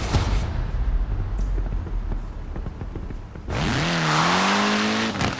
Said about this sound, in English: A spot of rallying in the most British car of them all.